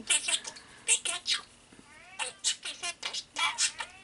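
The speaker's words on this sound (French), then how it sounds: "J'ai mon chat qui veut rentrer dans la chambre." A pet cat meows repeatedly outside a bedroom door to be let in, a series of short, close, insistent cries in quick succession, with a voice talking between them.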